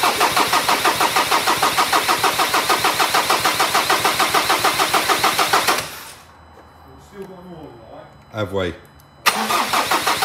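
A 2013 Ford Ranger with a recon 2.2 TDCi engine cranks on the starter with all four injectors unplugged, a fast rhythmic chugging that runs steadily for about six seconds, stops, then briefly resumes at the end; voices talk in the quiet gap.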